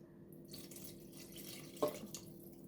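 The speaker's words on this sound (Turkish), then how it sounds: "Şöyle suyumuzun da birazını dökeyim." Water poured from a glass into a flour mixture for cheese-filled sıkma flatbread dough, a soft, faint trickle and splash after a quiet start, in a hushed kitchen.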